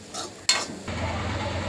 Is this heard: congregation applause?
no